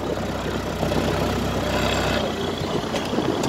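Tractor with a 4.4 litre Perkins diesel engine running steadily nearby, a continuous low idling rumble with a faint rattle and no voices over it.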